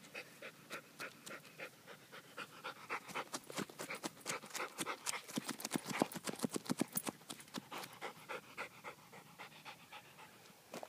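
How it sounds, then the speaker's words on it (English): A dog pants rapidly and rhythmically close by outdoors in a yard, the quick breaths building in intensity and then easing off, with no voices over it. "Crazy dog."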